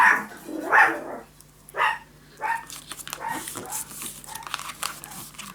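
Several dog barks, loud and fairly close, come in bursts in the first half, then fade into scattered fainter yaps over a low steady hum.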